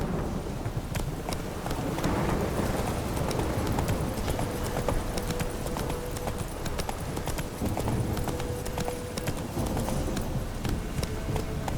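Steady clip-clop of Roach the horse's hooves in The Witcher 3, a continuous trotting rhythm throughout with a rumbling rain-and-thunder-like ambience underneath and no talking.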